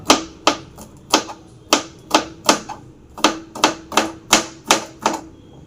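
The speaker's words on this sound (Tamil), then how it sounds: "இப்போ நம்ம அதனால பொடியாக கட் பண்ணிட்டோம்" Knife chopping green beans finely on a cutting board, about a dozen sharp, evenly spaced taps in a steady rhythm, close and clear with no talking.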